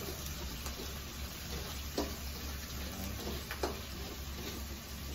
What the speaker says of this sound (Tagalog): Gigisa pa rin natin yan para mas malasa ulit yung sa ating pinagprituhan ng ating pork guys